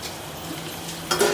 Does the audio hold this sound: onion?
yes